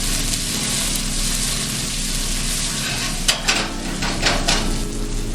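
Green beans stir-frying in a hot pan give a steady, close sizzle, and a burst of quick scraping stirs comes near the end.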